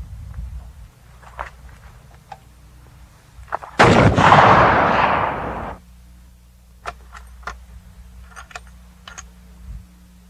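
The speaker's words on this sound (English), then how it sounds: "Fire again." A machine gun fires a sustained burst of about two seconds at an outdoor range, aimed into brush at long distance; loud and close, with quiet ambience and a few faint clicks before and after.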